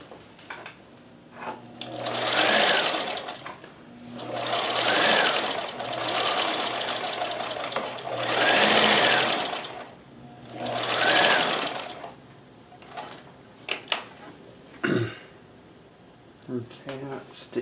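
A Kenmore sewing machine fitted with a super high shank walking foot stitches in four loud, steady bursts of rapid mechanical whirring, with pauses between them, followed by a few clicks and short handling noises.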